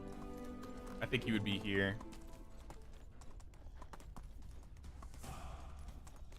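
A horse's hooves clip-clop at a steady running pace in the medieval video game Medieval Dynasty, continuous and moderately close, while someone talks over it briefly.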